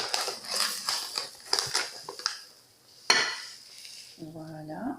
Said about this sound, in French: on vide une cuillère à soupe de sucre dans le plat